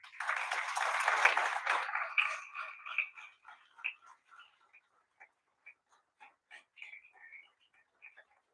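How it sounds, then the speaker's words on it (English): Audience applause at a corporate trade conference, a loud burst of clapping that quickly thins into scattered individual claps before fading to silence. "A huge round of applause for Somali ma'am."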